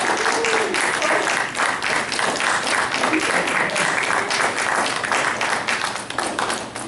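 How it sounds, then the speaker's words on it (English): A concert audience gives a round of applause for a chamber ensemble, a loud, dense, sustained wave of clapping from many hands that stays strong throughout and dips slightly near the end. "Please, a round of applause for the rest of the ensemble."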